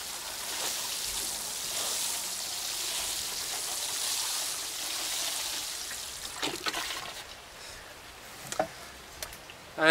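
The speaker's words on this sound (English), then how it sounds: "And then lastly, we'll just give that a good water in." Water pours from a watering can or hose onto a newly planted lime tree, a steady soft splashing hiss into soil for several seconds that then tapers into scattered drips and light handling noises.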